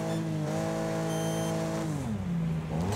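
Race car engines in Wreckfest whine and rev together with steady, tonal roars that dip and climb again as the cars get under way, loud and close, with no talk.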